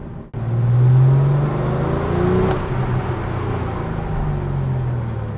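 An air-cooled Porsche 911 of the 993 generation with all-wheel drive hums steadily while driving, a low engine drone with mild rises in revs, heard from inside the car.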